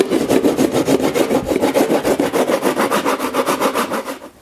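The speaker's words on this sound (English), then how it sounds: "a wood rasp, but I'm going to use it to knock down the surface and get it a little bit smooth" A wood rasp scrapes across a cracked drywall surface in quick, even back-and-forth strokes, a close, loud rhythmic rasping that fades at the end, with no talking.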